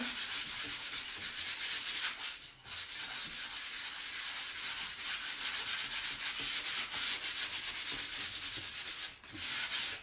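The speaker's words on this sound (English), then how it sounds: "we're sanding and get that step done" Steady, continuous sanding on wood, a dense rasping scrape with brief pauses around the third and ninth seconds, close and fairly loud throughout.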